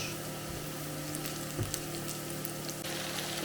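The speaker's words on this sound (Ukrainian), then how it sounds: "Потім додаємо моркву, підсмажуємо також." Onion and carrots frying in a pan as part of a pumpkin dish, a steady close sizzle with faint clinks of stirring, no voices.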